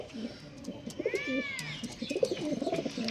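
Pigeons coo repeatedly in low, warbling bursts close by, with a brief higher whistle-like tone in the middle.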